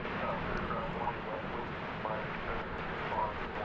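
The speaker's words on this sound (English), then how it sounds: "Lots of aircraft here today." Steady aircraft engine roar at DFW Airport, a continuous broadband rumble from planes on or near the field, fairly loud and even throughout with no clear speech.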